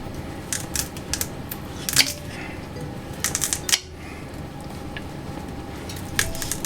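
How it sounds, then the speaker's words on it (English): A knife cuts peeled carrots into chunks on a board for pig tail stew, with irregular crisp chops and taps standing out over a low steady kitchen hum. "So I'm just going to cut in these chunkies."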